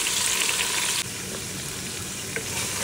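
Capsicum, ginger, garlic and garam masala fry in hot oil in a home kitchen, giving a steady close sizzle with a brief stir partway through and no talk.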